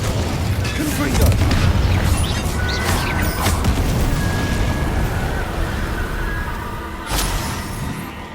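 Confringo explosive spell blast in Hogwarts Legacy, a loud continuous rumbling boom with crackling bursts and sharp sparkling hits throughout, under dense game sound effects.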